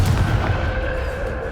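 A Confringo fire spell in Hogwarts Legacy bursts as a dense, roaring explosion, one sustained loud boom with a rumbling low end that fades slightly over a second and a half.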